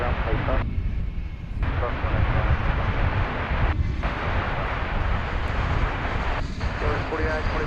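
An American Airlines Airbus A321, flight 2496 from Portland, Oregon, arrives at DFW Airport in late afternoon with a steady, loud jet roar that fills the whole stretch, mixed with wind buffeting.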